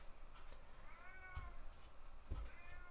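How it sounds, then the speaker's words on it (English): A house cat lets out two drawn-out, unhappy meows, faint and somewhat distant, over quiet room noise. "my cat is just not a happy camper, I guess"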